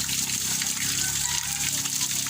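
Free hot spring water pours and gushes steadily from pipes, a dense continuous rushing flow heard close, with no break across the stretch.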